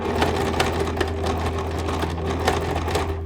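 A sewing machine stitches a gold thread onto a handmade Christmas angel, running in a steady, close, fast mechanical whir with a regular clattering rhythm throughout.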